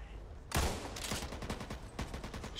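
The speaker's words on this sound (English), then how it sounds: "Assault rifle." Bursts of assault rifle fire in Back 4 Blood, a sharp onset followed by rapid repeated shots and a second burst near the end, loud and close.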